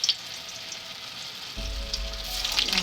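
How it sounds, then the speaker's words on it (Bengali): Chhana (cottage cheese) eggs frying in oil in a wok, a soft steady sizzle that grows louder and crackles more as pieces go in. "ছানার ডিমগুলো যে ভেজে নেবো, একটু তেল দিচ্ছি কড়ায়।"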